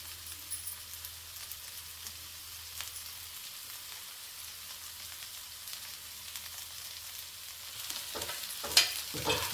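Faint, low oil sizzle from ladyfinger okra frying in a pan, with soft stirring scrapes that grow a little louder and busier toward the end, no voices.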